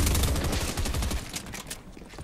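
A shotgun fires in a first-person shooter game, a loud burst of overlapping blasts and crackle that quickly fades.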